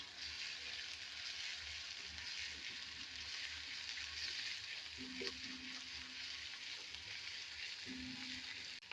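Ginger garlic paste fries in hot oil for a chickpea roast, giving a steady, dense sizzle with a few faint utensil touches and no voices.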